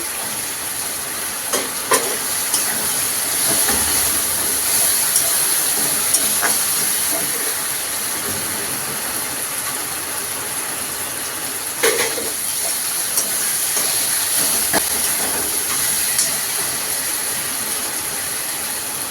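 Chopped chili fries in a hot pan, a loud, constant sizzling hiss that fills the whole stretch, with a few faint clinks of stirring.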